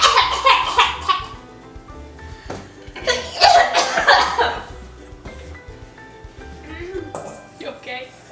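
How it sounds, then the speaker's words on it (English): Someone coughs several times while choking on coconut during a casual home cooking session, sharp harsh bursts mixed with laughter and people talking nearby. "just choking on the coconut"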